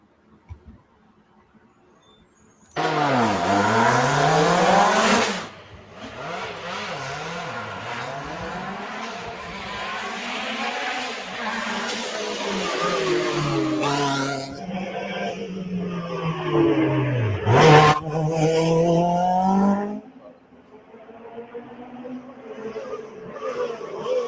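Loud Lancia Group B rally cars roar past, engines revving hard and shifting gears, with a sharp pop partway through and quieter engine noise trailing off.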